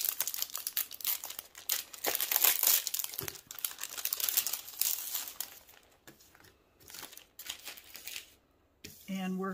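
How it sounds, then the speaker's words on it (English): Adhesive pearl wrap pulled from crinkly plastic packaging, with close, continuous crinkling and rustling that thins out toward the end, and a voice speaks briefly at the very end. "free this from its packaging."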